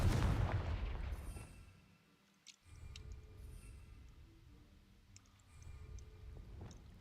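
Confringo spell blast in the video game Hogwarts Legacy, a booming explosion at the start that rumbles and fades, followed by fainter crackles and a later lower rumble.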